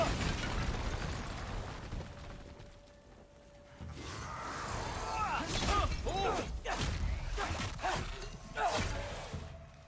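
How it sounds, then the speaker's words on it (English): A fire pot explodes in the video game God of War Ragnarok, giving a burst followed by crackling debris and swooshing effects over a continuous background of game ambience. "Attack fire pots to cause an explosion, removing debris and damaging enemies."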